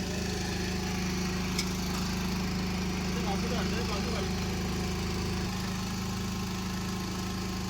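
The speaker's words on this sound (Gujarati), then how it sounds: "હવે આપણી બોટ પાછી રવાના થઈ રહી છે" A steady engine drones throughout at an even pitch, low and constant, like a boat motor running close by with no pauses.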